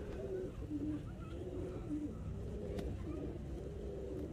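A pigeon held in the hand gives a series of close, low cooing phrases, repeated in a soft rolling rhythm against quiet background noise.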